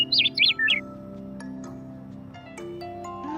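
In the video game Craftomation 101, a baby bird gives a few quick bright chirps in a cluster near the start, then goes quiet over a steady game music bed.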